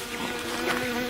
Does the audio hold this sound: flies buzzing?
yes